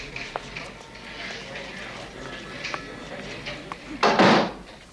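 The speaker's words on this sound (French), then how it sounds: "entrez, fermez la porte et asseyez-vous" An office door swings shut with a loud, close thud near the end, after a stretch of background voices and small scattered knocks.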